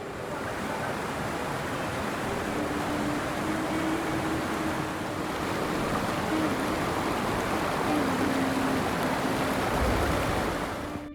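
Steady, broad rushing of a river flowing near a mountain trek trail in Aceh, a continuous loud wash of water filling the whole stretch with no voices.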